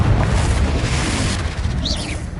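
A Confringo blasting spell explosion in Hogwarts Legacy booms loudly and close, a deep rumbling blast that rolls on for a couple of seconds with a faint high chirp near the end.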